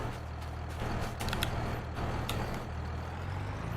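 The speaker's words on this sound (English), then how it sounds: "It's my tractor I can hear." A Farming Simulator 22 tractor engine idles with a steady low rumble and a faint hiss on top, holding a constant drone with no voices.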